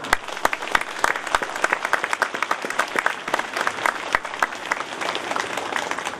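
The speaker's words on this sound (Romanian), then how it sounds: "să ne încălzim puțin palmele în formă de respect, aplaudând militarii și armata română prezentă aici de față" Audience applauding Romanian army soldiers at a National Day of Romania celebration in Râmnicu Vâlcea, a dense steady patter of many hands clapping with sharper individual claps standing out, sustained and fairly close throughout.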